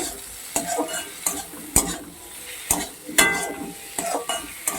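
Grated garlic and ginger paste gets stirred into potatoes and onions frying in a pan for a prawn curry. There is a soft sizzle under repeated sharp metal spatula scrapes and clinks against the pot, coming in irregular strokes close up.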